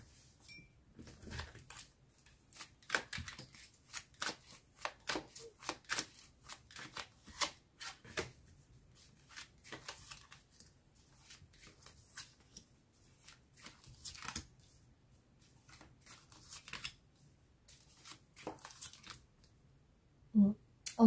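Tarot cards being shuffled for a reading, with soft, close riffles and flicks in irregular bursts over a quiet room, without talk.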